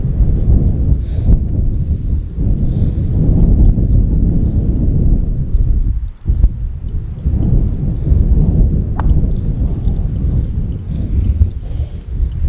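Gale force wind blasts across a golf course and buffets the microphone in a loud, heavy, continuous roar that surges and briefly drops.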